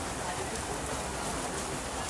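Steady monsoon rain falls on a football practice session throughout, a dense even patter with no pauses, fairly loud and close.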